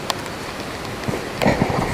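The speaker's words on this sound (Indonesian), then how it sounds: "Datang Jatim dan kondisi hujan, full hujan dari Wonosari tadi." Heavy rain pours during a motorcycle ride, a dense steady hiss close by with a few brief bumps and spatters over it.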